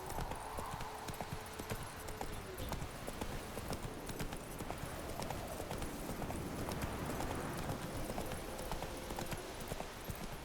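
Roach the horse's hooves clip-clop steadily in The Witcher 3, a continuous rhythmic trot close by over a dense ambient game soundscape, with a brief whinny-like tone early on.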